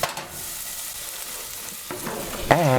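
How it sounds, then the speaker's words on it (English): Herbs sautéing over a low flame in a stew pot while being stirred, a soft continuous sizzle with a few scraping strokes near the end. "Stir the herbs in the pot. Allow it to saute a few seconds"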